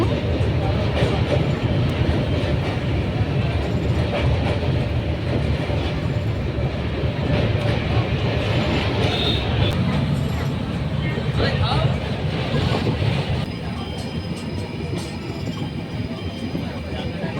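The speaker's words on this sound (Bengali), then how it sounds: "ট্রেন চলেছে তার নেক্সট ডেস্টিনেশন কামারকুন্ডুর উদ্দেশ্যে" The Jammu Tawi Express rumbles steadily along the rails, a loud, continuous rolling roar with faint metallic clatter that eases slightly toward the end.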